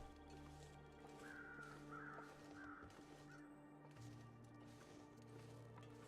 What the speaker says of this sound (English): I'm pretty sure I heard the weather crows